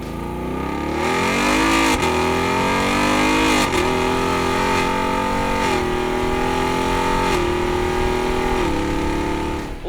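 A 2018 Ford Mustang GT with a Roush active axle-back exhaust revs hard and loud, the V8 note climbing in repeated pulls with brief dips between gear changes, close and continuous throughout.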